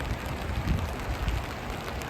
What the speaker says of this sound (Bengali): কন্টিনিউ 2 দিন থেকে বৃষ্টি।